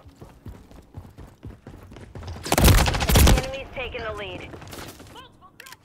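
Assault rifle gunfire in the Call of Duty Modern Warfare 3 beta comes as loud rapid bursts, preceded by lighter clicking shots, with voices talking over the action.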